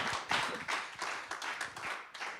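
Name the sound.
audience applause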